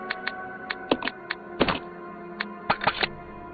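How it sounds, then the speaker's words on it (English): Weapon reloading in the video game Resident Evil Zero HD: a string of separate clicks and thunks, some single and some in quick pairs, spread across a few seconds with no one talking. "Let's reload that shit right now."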